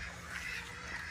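Ducks quack faintly in a farm chicken yard where chickens and ducks are being let out, a soft, distant call over a steady outdoor hiss.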